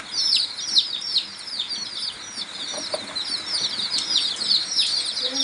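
Young chicks with newly grown wings peep and cluck in a rapid, continuous chatter of high chirps close by for the whole stretch, with no talking.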